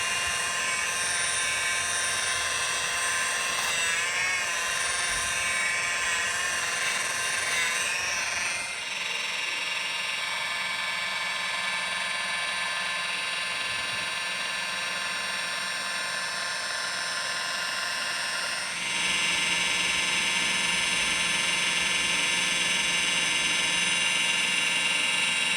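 A car headlight lens is being machine-sanded, giving a continuous high-pitched whine and buzzing hum that shifts in tone twice over a long stretch, close and steady, without talking.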